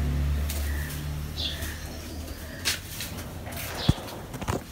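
Pigeons kept in a veranda-like store room: soft low cooing and a few chirps sound near and faint, with scattered light knocks and scuffs from movement.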